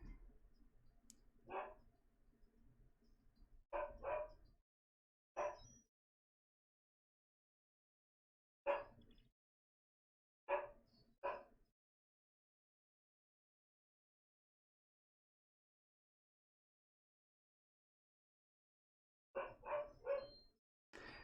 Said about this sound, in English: If that you can hear the dog. She is loud.